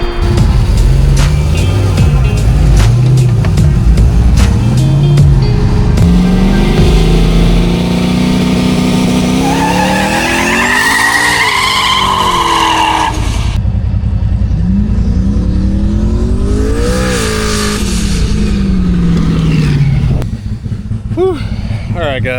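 Turbocharged junkyard 5.3 V8 car on a test drive, engine revving up and down in rising and falling sweeps with gear changes, loud and close, with people talking over parts of it.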